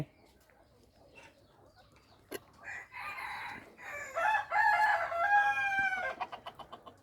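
A rooster crows once loudly and close in a farmyard, after some clucking and soft shuffling, and other birds call faintly behind it.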